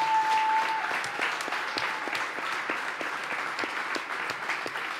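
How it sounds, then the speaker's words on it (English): An audience at a live podcast recording applauds steadily for several seconds, the clapping even and sustained with a brief tone at the start. "So give all these guys a round of applause,"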